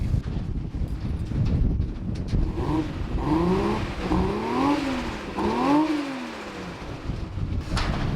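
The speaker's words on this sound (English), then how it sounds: "the car sounds fantastic, but it's just too quiet" A Nissan Stagea 260RS wagon with a Nismo exhaust, test pipe and 3.5-inch Kakimoto setup revs its engine several times, each rise and fall sweeping up and back down, close by and fairly subdued over a windy rumble.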